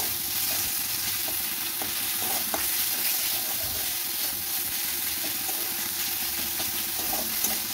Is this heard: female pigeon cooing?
no